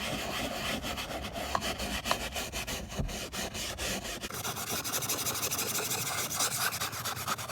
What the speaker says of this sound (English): I'm just gonna sprinkle a little bit more, just a tad more, and then start scrubbing away.